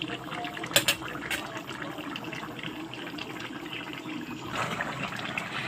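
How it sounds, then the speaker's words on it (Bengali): Fish pieces simmering in a curry on the stove, a steady bubbling, liquid texture close by with a couple of brief louder splashes or stirs near the start and again near the end, no talking. "এবার মাছগুলো দিলাম আমি, আর একটু ফুটিয়ে নেব।"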